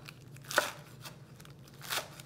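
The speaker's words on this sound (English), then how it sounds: "So I'm gonna go ahead and roughly chop this romaine lettuce that I've already washed and dried." Knife roughly chopping washed and dried romaine lettuce, two or three faint, crisp cuts spaced apart against a quiet kitchen background with a low hum.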